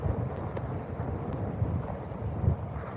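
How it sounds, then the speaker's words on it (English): Wind buffets the microphone out on the water during a fishing trip, a continuous low rumbling roar with a few louder gusts and faint thumps, no voices. "Man, it's windy out here, guys."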